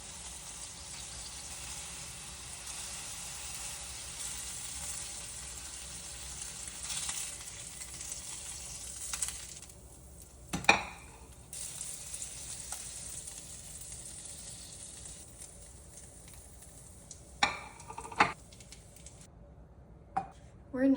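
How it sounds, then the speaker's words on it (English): Meatballs browning in a pan give a steady quiet sizzle, with a few sharp clinks of a utensil against the pan as they are turned partway through. "Whenever you're browning the meatballs, you want to just flip them and turn them so that each side gets browned."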